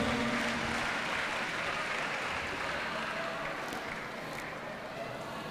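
Audience applause during a Maulid Nabi religious gathering, a dense continuous clapping from a crowd that stays loud and gradually eases toward the end.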